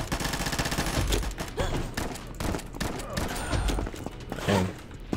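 Sustained automatic gunfire in the shooter game Combat Master, loud dense bursts of rapid shots filling the whole stretch with thuds mixed in.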